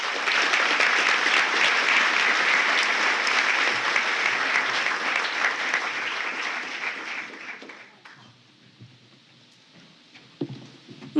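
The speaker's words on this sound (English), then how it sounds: "please join me in one more round of applause for our Scholarship Fund representatives" A crowd at a high school senior awards night applauds scholarship fund representatives, with dense sustained clapping that fades out after about eight seconds, leaving quiet room noise and a few stray sounds.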